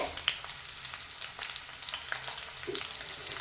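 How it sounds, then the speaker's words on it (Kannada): Thick-sliced capsicum frying in hot oil, a steady close crackling sizzle with scattered sharp pops and light stirring scrapes, no voices. "ಕ್ಯಾಪ್ಸಿಕಮ್ನ ಕಟ್ ಮಾಡಿ ಇಟ್ಟಿದ್ದೇನೆ ಅದನ್ನು ಇದರೊಳಗಡೆ ಹಾಕ್ತೇನೆ ಎಣ್ಣೆ ಒಳಗಡೆ"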